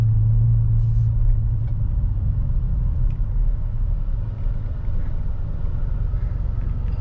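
Steady low road-traffic rumble heard from inside a moving vehicle following an old, rusted, roughly 25-year-old Ford E350 Super Duty, continuous and fairly loud with no talking.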